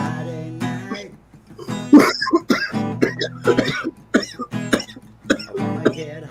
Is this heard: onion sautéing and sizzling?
no